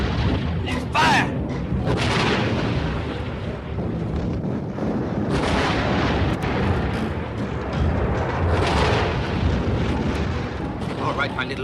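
Cannon artillery fires in a 1966 Russian war film battle scene, a dense, roaring, continuous din of booms and rumble with wind-like noise throughout, and voices shouting over it.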